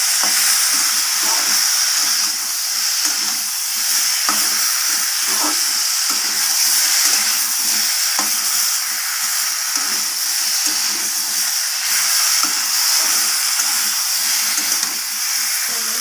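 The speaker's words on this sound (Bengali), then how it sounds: "দিয়ে দেব স্বাদ মতো লবণ আদা আর লবণটাকে দিয়ে আবারও ভালোভাবে আমি কষিয়ে নেব সবজির সাথে" Vegetables sauté in a hot pan with salt and ginger, a steady loud sizzle and hiss running unbroken for the whole stretch, with scraping stirs breaking through now and then, no voices.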